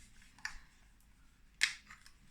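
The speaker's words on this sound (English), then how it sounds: "So I am using the tailored tag punch for this." A tailored tag punch cutting designer series paper during card making gives two short, crisp snipping clicks about a second apart, quiet and close, over faint rustling.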